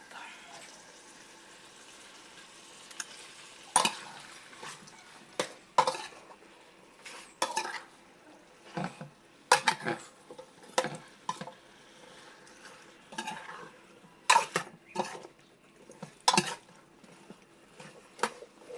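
Okra and mushrooms sauté in a pan for ginisang kabute, with a low sizzle under repeated sharp clanks and scrapes of a utensil stirring against the pan.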